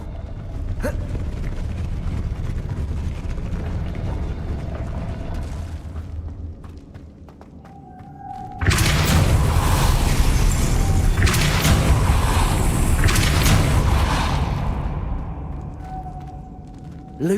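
A Depulso spell blast in Hogwarts Legacy, a sudden loud booming burst halfway through that swells into a sustained roaring rush, then slowly fades; quieter game ambience comes before it.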